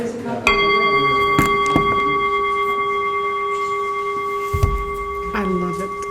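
Bells ring out with sustained, overlapping tones, a few fresh strikes standing out over a steady background hum.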